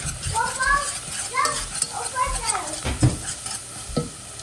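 Pot roast ingredients are stirred in a hot pot, with scraping, clattering strokes over a sizzle while a voice talks throughout.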